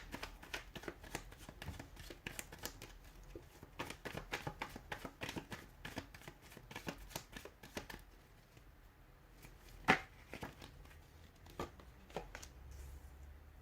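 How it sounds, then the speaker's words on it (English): Tarot cards being shuffled by hand in quiet, close surroundings: a steady run of crisp riffling bursts for about eight seconds, then softer scattered card taps and one sharp snap. "give the cards a shuffle"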